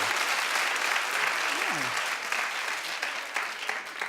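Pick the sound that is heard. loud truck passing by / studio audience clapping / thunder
studio audience clapping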